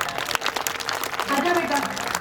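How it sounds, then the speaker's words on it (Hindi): At an International Women's Day event, a crowd claps for children in a short, fairly loud burst of applause, with a voice talking over the clapping toward the end. "उनके लिए एक बार तालियां बजाई जाए।"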